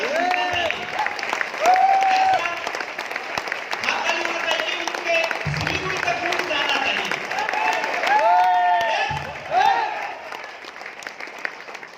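A crowd applauds at a speech event, a dense wash of clapping that carries on steadily beneath a voice speaking over it.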